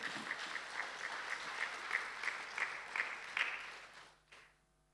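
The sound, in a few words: applause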